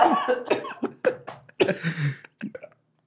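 A burst of several harsh, rapid coughs close to the microphone, breaking into choppy fits with short gasps between them.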